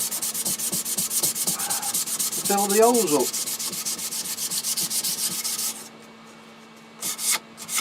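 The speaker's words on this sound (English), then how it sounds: "just sand it down and let the sawdust just go into the glue" Steady rhythmic rasping of sandpaper scrubbing back and forth on glued scrap wood, close up, with a brief spoken phrase in the middle; the rubbing stops, then resumes in short strokes.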